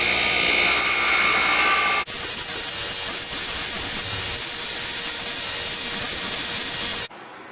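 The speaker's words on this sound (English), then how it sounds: "Using the index wheel as a guide, I began grinding the 4 facets." Grinding four flat facets onto a steel rod, guided by an index wheel: a loud, continuous abrasive roar that runs steadily for about five seconds after a brief lead-in, then cuts off abruptly.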